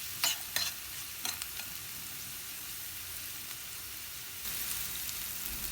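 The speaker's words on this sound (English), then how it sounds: "Fry onions for minimum 2 minutes." Onions frying in oil in a pan with salt mixed in, a steady close sizzle and hiss throughout, with a few spoon clinks and stirs near the start and a slight rise in sizzle toward the end.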